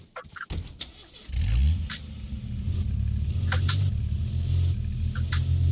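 A car in H1Z1 King of the Kill starts with a few clicks, then the engine catches and settles into a loud, steady idle rumble, with sharp higher clanks and chirps over it.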